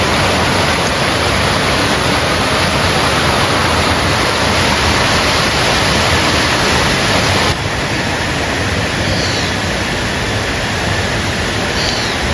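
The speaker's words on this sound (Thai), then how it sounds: "อันนี้เป็นน้ำตกนะคะ" A waterfall at Mae Kampong village near Chiang Mai, on a drizzly day, gives a steady, loud, dense rush of falling water that stays constant throughout with no voices.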